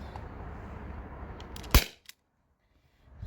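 A modified Gen 1 T4E HDP50 airsoft pistol running on an HPA tank fires one sharp, loud, close shot over a steady background hiss, followed by a brief faint click and then near silence.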